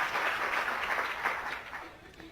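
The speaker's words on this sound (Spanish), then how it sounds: "Un aplauso para nuestro offline." Applause from a convention audience after a call to clap for a closing speaker, a steady broadband patter of many hands that slowly thins toward the end.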